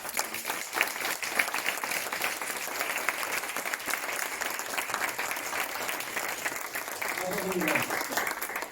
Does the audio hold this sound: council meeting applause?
yes